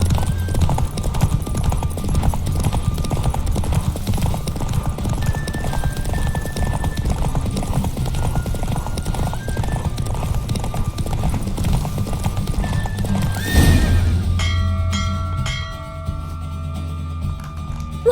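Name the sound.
horse galloping and neighing in The Witcher 3 video game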